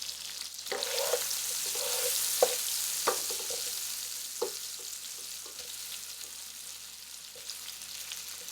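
Garlic and leftover brisket frying in a pan for chili: a steady close sizzle with scattered sharp pops and clacks from stirring, continuous throughout without speech.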